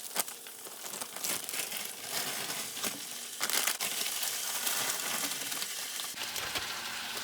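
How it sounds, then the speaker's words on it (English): A package of vegetables being torn open and handled in a home kitchen, giving close, crinkling plastic rustles and tearing bursts across several seconds, with no talk. "I'm going to open up my vegetables."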